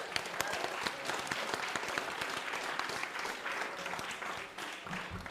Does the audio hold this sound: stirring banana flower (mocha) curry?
no